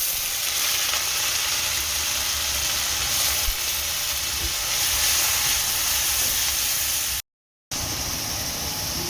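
Loud, steady sizzle of onion paste frying in ghee with bay leaf and whole garam masala, a dense continuous hiss that cuts out briefly near the end.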